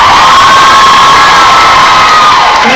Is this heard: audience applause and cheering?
yes